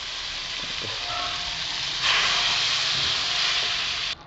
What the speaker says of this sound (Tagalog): Habang yan nagbabubbles na siya